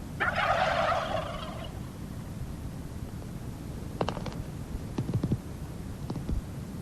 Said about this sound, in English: They're good American turkeys.